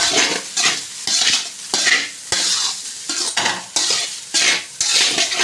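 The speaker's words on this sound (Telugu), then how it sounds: "ఇప్పుడు ఒకసారి కలుపుకున్నాము ఇవన్నీ మిక్స్ అయ్యేలాగా" A utensil stirs egg rice in a sizzling pan, giving rhythmic scraping strokes against the metal over a steady frying hiss, close and fairly loud, with no talking.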